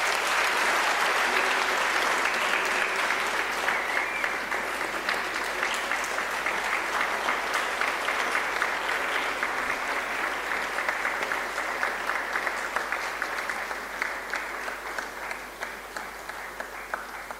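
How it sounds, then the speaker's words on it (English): Sustained applause from a large audience welcoming former South African President Thabo Mbeki to the stage, a dense wash of clapping that holds steady and then eases slightly toward the end, with no voices over it. "A warm round of applause,"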